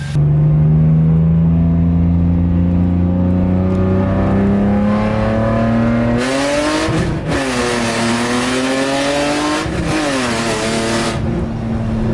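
A BMW E46 with a new intake manifold and tune revs hard and loud, engine pitch climbing in long sweeps with brief dips between pulls, aggressive and close with no talking.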